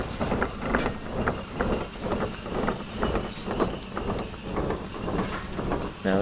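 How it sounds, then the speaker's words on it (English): A steam locomotive in the VR train game Derail Valley rolls while braking, with a steady rhythmic clatter of wheels over track joints and a faint high squeal, moderately loud with no talking. "So we'll go ahead and apply the brake."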